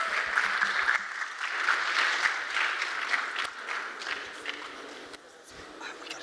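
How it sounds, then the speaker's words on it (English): A room full of people applauding panelists at a panel discussion, steady dense clapping that fades slightly toward the end. "Could I get a big round of applause for all our panelists?"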